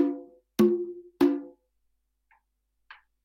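Open tones on conga and tumba, the lower drum tuned to G: three resonant, ringing drum strikes in quick succession, each decaying over a fraction of a second, followed by two faint, brief taps.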